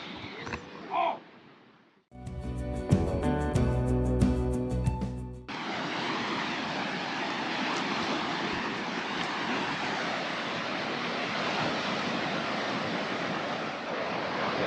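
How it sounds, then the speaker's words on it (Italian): A steady, broad wash of sea surf on a Spanish coast rolls on continuously after a brief burst of loud clattering music, with a faint sound early on. "L'unico rumore è proprio questo che si sente, quello del mare."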